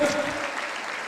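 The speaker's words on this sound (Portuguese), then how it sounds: "Você pode aplaudir o Senhor" A Portuguese-speaking congregation at a church sermon claps for the Lord, a broad wash of applause that begins strong and gradually thins, with faint voices mixed in.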